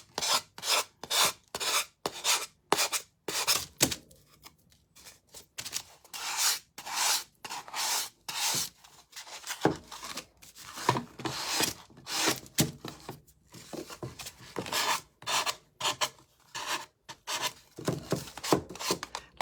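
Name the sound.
sanding with fine sandpaper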